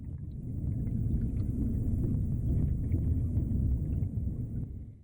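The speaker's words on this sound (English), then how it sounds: "under is the sound you hear when diving underwater" Muffled underwater ambience from diving in an Unturned custom map: a dense, steady low rumble, faint and enveloping, with soft bubbly ticks scattered across it.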